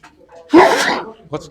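A single sharp human sneeze bursts out close and loud after brief quiet talk, followed by a voice starting to speak again.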